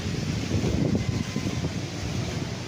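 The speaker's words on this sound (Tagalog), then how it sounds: "malakas ang hangin mga kaprops" Strong wind sweeps across a flat, open farm lot beside a river in Liliw, Laguna, making a steady, loud, rumbling roar that buffets the microphone throughout, with no voices.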